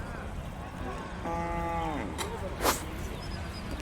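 Cattle at a cattle market give one drawn-out moo amid busy background crowd noise, followed by a short sharp sound.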